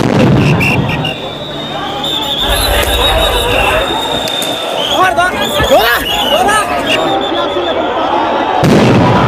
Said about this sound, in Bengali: দেখতে পাচ্ছি দফায় দফায় সাউন্ড গ্রেনেড নিক্ষেপ করছেন পুলিশ